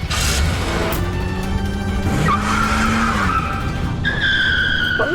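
Car skidding to a stop with loud tire squeal, the screech sliding in pitch over several seconds before a sharper high squeal near the end, no talk.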